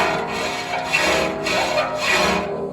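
A file scrapes and skips across a new, unground saw tooth in continuous rough rasping strokes, loud and close, with no talking over it.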